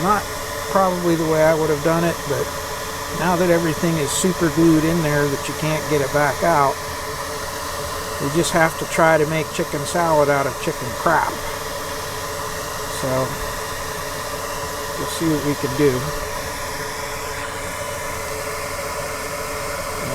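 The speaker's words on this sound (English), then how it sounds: "sorry about the noise, but we have to have the fume extractor" Solder fume extractor fan running at a workbench during electronics repair, a steady broadband whoosh that persists at constant level throughout while someone talks over it.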